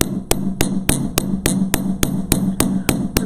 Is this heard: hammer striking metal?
yes